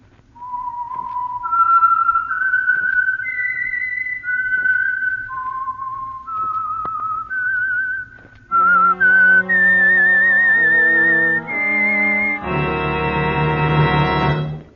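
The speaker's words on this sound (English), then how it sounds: "the signal to listen for is this whistle that identifies the Signal Oil program" A lilting whistled melody of sustained tones, the theme of the radio mystery program The Whistler, rises and falls, then shifts into a fuller, brassier orchestral phrase that swells near the end.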